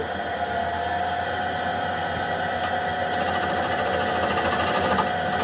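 A wood lathe runs steadily while a bowl is turned with a spindle gouge, a loud continuous mechanical whir and hum, with light cutting chatter added partway through; no talk.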